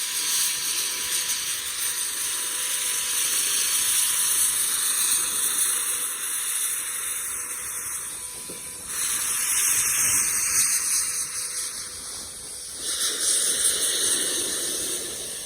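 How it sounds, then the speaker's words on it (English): A real Berkshire steam locomotive lets off a steady, loud hiss of steam that runs continuously, swelling briefly in a few places, with no talking over it. "a Berkshire steam locomotive with literally all the bells and whistles"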